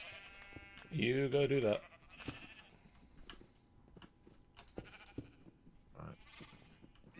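A Minecraft sheep gives one loud, close bleat lasting under a second, followed by quiet clicks and game noises while a person talks.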